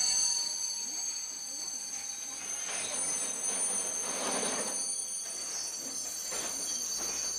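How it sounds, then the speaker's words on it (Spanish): A passenger train from Stockholm rolls steadily into Kiruna, Sweden, with wheels squealing faintly against the rails over a continuous rumble and high metallic hiss. "El tren de pasajeros que llega por la mañana procede de Estocolmo."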